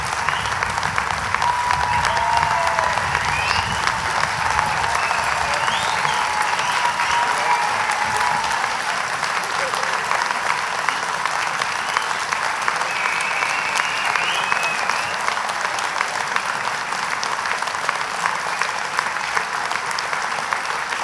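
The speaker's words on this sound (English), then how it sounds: "While you're clapping" Graduation ceremony audience clapping in a large hall, a long unbroken wash of applause from a big crowd, steady and even in loudness for over twenty seconds, with faint voices and a few whoops heard under it.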